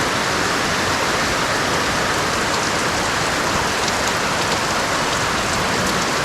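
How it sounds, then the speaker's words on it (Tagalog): Heavy rain pours down steadily in Siruma, Camarines Norte, a dense, unbroken hiss with no voices. "Yun, lalong lumakas ang ulan. Lumakas pati yung alon."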